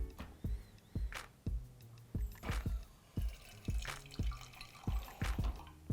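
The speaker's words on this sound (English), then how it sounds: "I'm just going to rinse a bit of water through the portafilter" Water rinses through the portafilter of a La Pavoni lever espresso machine, producing quiet irregular drips and splashes in quick succession, close and soft.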